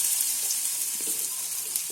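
Pola batter sizzling on a hot iron griddle, a steady bright hiss with faint crackles, close and continuous, with no talking.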